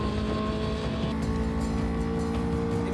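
A classic Honda S600, a small Japanese sports car, revs high toward about 9,000 rpm. Its engine note is a steady, close, buzzing whine with layered harmonic tones that holds throughout.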